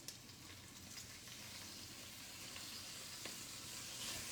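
Steady sizzling of crumbled ground beef frying in a pan, a constant crackling hiss with occasional small pops, no voices.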